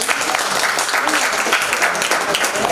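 Loud, sustained applause from an audience at a ceremony honoring a retiree, many hands clapping densely with scattered voices mixed in.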